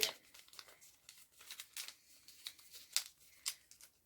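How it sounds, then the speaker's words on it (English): Cross-stitch pattern sheets are folded up close by, giving soft, irregular crinkles and paper rustles in short bursts, quiet with no talk. "So I'm going to just fold these up."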